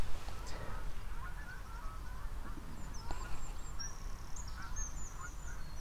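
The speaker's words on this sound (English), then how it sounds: "I can still hear the geese." Geese honk repeatedly in the distance over a quiet campsite background, their calls coming in scattered bursts.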